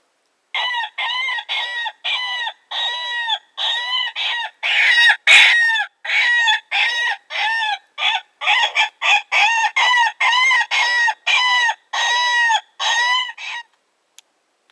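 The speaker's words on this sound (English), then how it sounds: "Put out a woodpecker call." A woodpecker call played from an electronic caller in the woods: a long series of loud, clear, rapid repeated call notes in quick bursts, close and alone with no talking.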